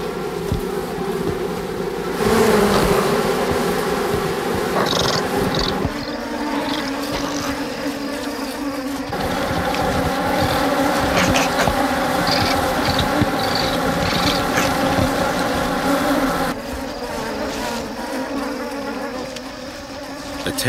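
A dense swarm of angry bees buzzes loudly and continuously during a honey badger's raid on their hive, a thick droning hum that swells and shifts in pitch for the whole stretch, no voices.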